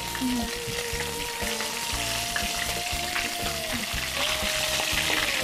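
Chicken pieces for country captain frying in a pan, a steady close sizzle with intermittent stirring clatter and a faint background hum.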